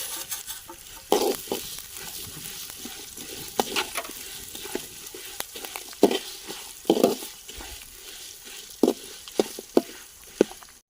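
Coriander seeds, black pepper, cinnamon and cloves fry in a pan with green chillies, giving a continuous sizzle punctuated by repeated stirring clatters and scrapes.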